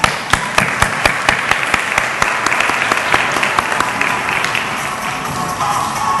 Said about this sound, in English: one more clap